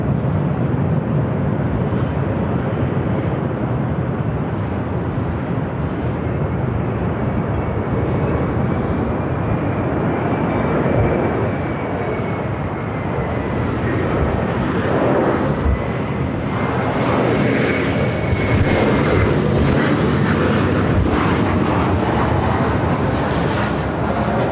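An airliner lands on runway 24 right at Los Angeles International Airport, a loud, sustained jet roar that swells and shifts in pitch over the stretch, heard without talk.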